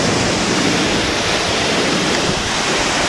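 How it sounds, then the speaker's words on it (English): Heavy flow of water at Crystal Falls, a close, loud, steady roar of cascading water that holds evenly throughout with no one speaking. "We have found Crystal Falls."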